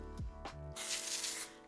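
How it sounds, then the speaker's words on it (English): Hair product sprayed at the roots from an aerosol can, a close, steady hiss lasting under a second after a couple of faint handling sounds. "So I'm just gonna spray some of this"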